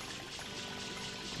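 Water pouring steadily into the FLUDD water pack in Super Mario Sunshine, a continuous rushing, splashing fill that runs without a break at an even, fairly loud level.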